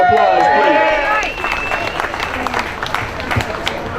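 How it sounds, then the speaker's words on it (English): Applause at an outdoor rally against cuts to Social Security, Medicare and Medicaid, a crowd clapping and murmuring for a hospital chaplain introduced to speak, with a brief whistle-like tone early on under the clapping. "So please give Pierre a round of applause, please."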